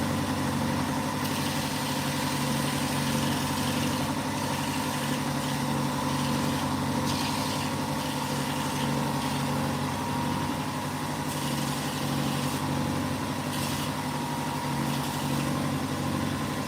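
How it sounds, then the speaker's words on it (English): A belt sander runs with a steady, continuous motor drone and a whirring belt while cleaning up a cast puppet eye. It holds close and constant throughout, with no talking. "I'm just going to use the belt sander"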